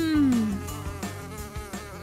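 A cartoon housefly buzzes steadily and close for about two seconds, its droning wings wavering in pitch, with no one talking over it.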